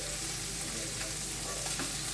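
Green onion and bacon sautéing in a pan give a steady, close, even sizzle that runs unbroken throughout, with no voices.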